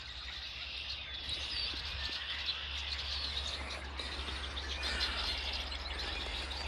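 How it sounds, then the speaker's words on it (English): Many birds chirp and sing together outdoors near a flooded, snowy river, a dense continuous chorus of tweets with a steady low hum beneath, no talking. "We're surrounded by birds."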